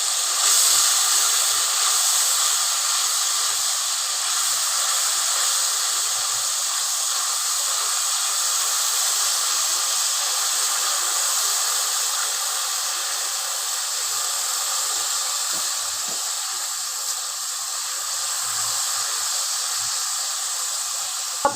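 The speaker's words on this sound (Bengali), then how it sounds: "এটাকে আমি ভালো করে ভেজে নিচ্ছি, তারপরে আমি বাকি মশলাগুলো দিব" Onion and garlic frying in a pan for a fish curry with bean seeds, giving a steady, loud broadband sizzle that hisses without pause from start to finish.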